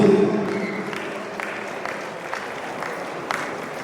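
An audience at an Onam celebration stage event applauds to welcome Mahabali, a burst of clapping that starts strong and thins to scattered claps.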